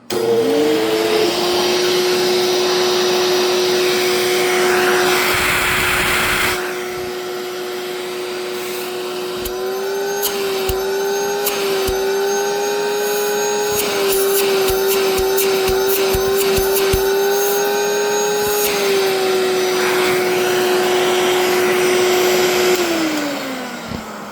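An Electrolux 2100 vacuum cleaner roars continuously at close range, its whine shifting pitch as it works, with scattered clicks and knocks from the hose or attachments.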